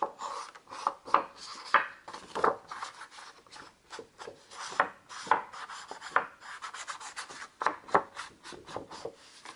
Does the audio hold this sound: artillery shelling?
no